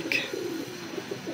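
Several soft, low pigeon coos repeat in a slow rhythm at moderate distance, coming from golden breeder female pigeons kept for sale in Lahore, with a brief higher chirp near the start and no talk.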